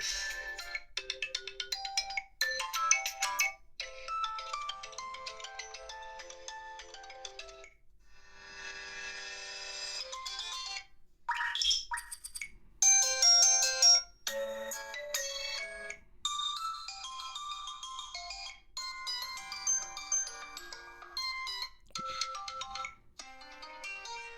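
A melodic ringtone plays loudly and steadily from a Unihertz 8849 Tank Mini 1 phone, a repeating electronic tune with bright chiming notes and no voices.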